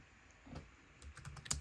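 Someone types briefly on a computer keyboard, a quiet scatter of soft key taps that grows into a quicker cluster of clicks at the end.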